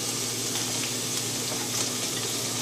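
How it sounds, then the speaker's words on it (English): Continuous loud sizzling of minced pork meatballs frying in a hot pan, an even crackling hiss throughout with no voices. "We've got this sizzling here, as you can probably see."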